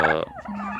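A farm turkey lets out a short, close gobble, one quick rattling burst followed by a brief lower call, with no voices present.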